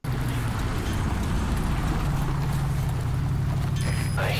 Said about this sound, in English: I hear vehicles.